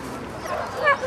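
A dog at a dog show gives a brief, high whine or yip near the end of a second, faint against steady ring background noise.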